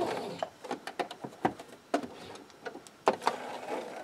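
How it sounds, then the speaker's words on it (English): Sewing machine back stitching at the end of a seam on scrunchie fabric, heard as quick, close mechanical clatters in short irregular bursts, quiet and alone. "so I'm going to back stitch."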